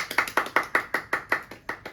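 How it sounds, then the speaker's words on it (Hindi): A few people clap their hands in applause at an indoor gathering, about nine quick, sharp claps in a steady rhythm, close and moderately loud, with no talking. "तालियां गाइस।"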